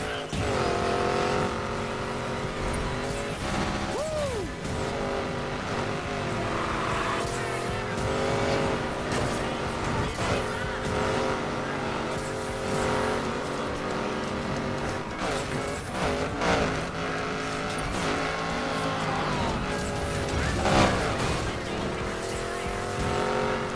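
A Koenigsegg racing in the game Need for Speed Payback, with a continuous high engine whine that rises and falls through gear changes, plus brief tire squeals, steady and prominent throughout.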